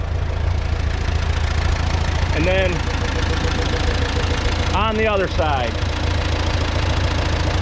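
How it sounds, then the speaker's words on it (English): A tractor's 4-cylinder Continental gas engine idles with a steady low rumble and slight knock throughout, close and continuous, while someone speaks briefly over it. "4-cylinder Continental gas engine."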